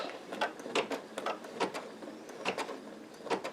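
A home embroidery machine fitted with a size 11 embroidery needle sews an outline stitch, giving a close, quiet run of repeated mechanical ticks and clicks in an uneven rhythm with no voices.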